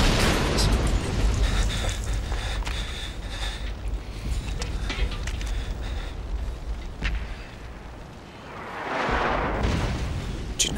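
Explosions in a sniper movie scene hit as heavy booming blasts with rumbling low end, a few sharp bursts scattered through, then fade and swell again near the end, with no speech.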